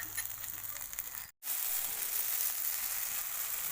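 Spices with ginger garlic paste and ground coriander sizzle steadily in a pan, a bright continuous hiss that cuts out briefly for a moment and then resumes, close and even, with no talk.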